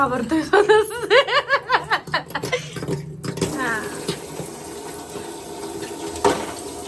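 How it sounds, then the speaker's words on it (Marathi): A water tap runs at full pressure into a sink, a steady rushing stream that follows a stretch of laughter and voices at the start. "मोठा नळ चालू ठेव मोठा प्रेशर"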